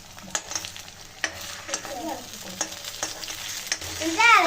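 Egg and vegetables fry in a pan at night while a utensil stirs them, giving a steady sizzle broken by several sharp scraping strokes and a brief clink near the end, with no talking.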